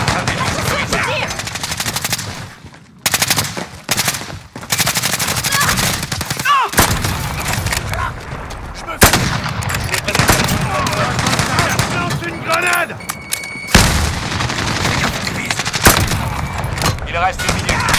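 Dense, loud gunfire in Modern Warfare on the cramped Shipment map: rapid automatic bursts, overlapping shots and booms almost without pause, with voices speaking now and then under the din.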